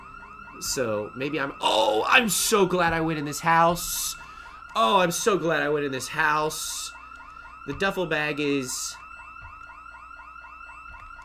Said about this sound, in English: you don't stick around a house when the alarm goes off